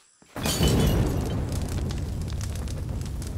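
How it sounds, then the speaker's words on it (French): Explosions in the video game Shadow of the Tomb Raider: a sudden loud boom bursts in after a brief silence, then a sustained rumbling roar with crackling debris that stays loud throughout. "Remarquez que le souffle des explosions fait bouger"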